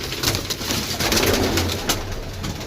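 Pigeons coo in a loft or cage area, soft continuous throaty calls close by amid a busy, noisy background with scattered clicks and rustles.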